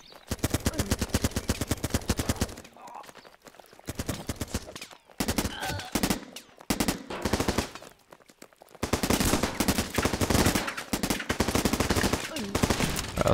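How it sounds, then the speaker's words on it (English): Heavy machine gun firing in the game Running With Rifles: loud, rapid sustained bursts of automatic fire broken by short pauses, with a fast steady rhythm and dense, close report. "This is a heavy machine gun"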